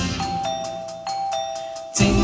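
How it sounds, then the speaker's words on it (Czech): A doorbell rings with bright repeated chimes during a live 2012 Czech pop stage performance, sounding loud and close over a sustained tone before a burst of band music enters. "někdo zase zvoní"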